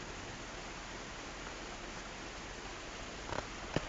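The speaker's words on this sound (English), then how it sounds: "We've probably gotten a good couple inches of rain out of this." Heavy rain falls outdoors as a steady, dense hiss of broadband noise, fairly quiet and unbroken, with a couple of brief louder taps near the end.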